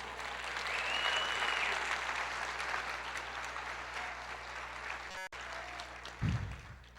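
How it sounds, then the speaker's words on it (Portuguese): A church congregation applauds during a sermon, giving dense, sustained clapping from many hands that holds steady throughout, with a short break and a low thump near the end. "Em nome de Jesus, aplauda o Senhor"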